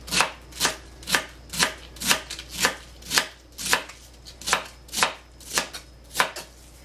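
A knife shreds cabbage on a cutting board for a vegetarian borsch, with about thirteen crisp, evenly spaced chops at a steady rhythm, close and clear with no talk.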